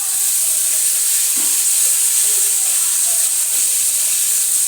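Boiled chickpeas tipped into a hot pan for a home-cooked recipe sizzle with a dense, steady hiss that fills the whole stretch without a pause.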